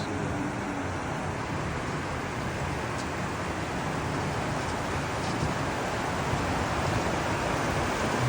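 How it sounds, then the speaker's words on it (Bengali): Rain begins falling in Italy as a steady, even hiss of dense drops with no breaks and no voices, holding at a constant level throughout. "শান্তির বৃষ্টি শুরু হলো"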